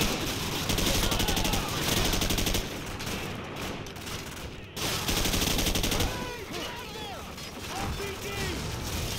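Grenades and gunfire in a Call of Duty 4 firefight, with loud, dense bursts of shooting and blasts that dip briefly midway, then return with ringing debris and crackle.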